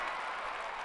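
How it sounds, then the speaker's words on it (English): Crowd applause from the game Civilization IV, a brief, steady burst of clapping and cheering that fills the moment evenly without any talk. "The people applaud."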